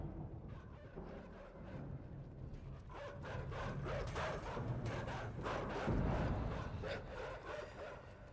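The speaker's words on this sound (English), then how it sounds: "Stupid dogs." Dogs barking in the video game Inside, a string of sharp yelps and barks at moderate distance that build louder toward the end over a low background rumble, with no one talking.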